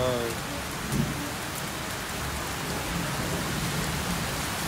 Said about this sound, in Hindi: बहुत तेज बारिश हो रही है गाइस